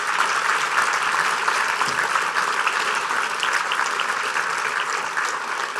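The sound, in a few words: audience round of applause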